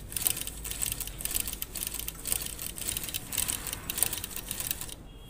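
A sewing machine runs after a cam timing adjustment, giving a fast, even mechanical clatter of needle strokes that carries on steadily and close, then stops abruptly near the end.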